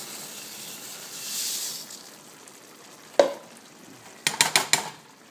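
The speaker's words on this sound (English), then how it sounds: "Quick stir to the rice." A soft hiss, then a sharp scrape and a quick series of metallic clinks as a spoon stirs rice just added to a pot of boiling water.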